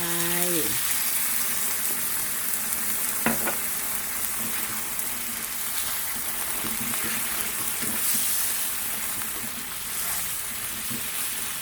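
Water poured into a pan of sizzling pork ribs, a brief gush at the start giving way to a steady, close bubbling sizzle with occasional clinks, no talking.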